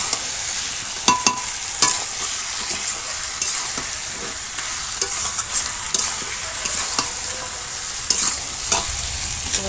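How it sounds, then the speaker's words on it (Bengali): Marinated chicken frying with spices in a village kitchen over a wood fire, a spatula scraping and stirring in repeated strokes over a steady close sizzle, no voices. "এবার নাড়বো।"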